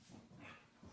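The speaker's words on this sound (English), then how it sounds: "you guys can hear my dogs in the background" Pet dogs playing in the background of a room, brief faint whimpers and soft yips over a low steady hum, distant and quiet.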